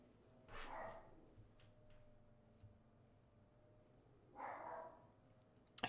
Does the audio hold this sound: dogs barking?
yes